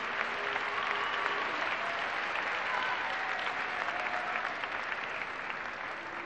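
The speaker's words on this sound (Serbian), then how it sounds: "Evo i Maja, još jedan aplauz, molim vas." A festival audience applauds steadily at a 2006 radio music festival award ceremony, a dense, sustained wash of clapping hands that fills the whole stretch at an even, loud level with no talk over it.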